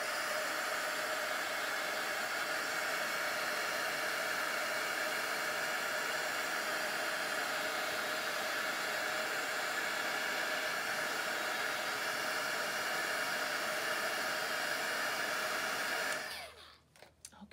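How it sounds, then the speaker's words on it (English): A heat tool blows a steady, loud hiss of air while drying glue on a paper craft project, running continuously for about sixteen seconds before cutting off abruptly. "I'm going to hit this with my heating tool real quick, so it will get noisy here for about 30 seconds"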